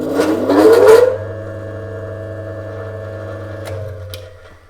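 A 2 horsepower grinder starts up with a loud, rising whine and rough rattle that settles within a second into a steady, smooth hum as it reaches speed, heard close with no talk.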